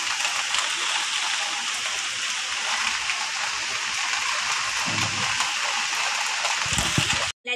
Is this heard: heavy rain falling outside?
yes